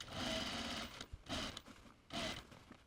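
A sewing machine stitches a sleeve placket on a two-piece sleeve in three bursts of steady, close whirring, with short pauses between runs as the fabric is adjusted under the needle.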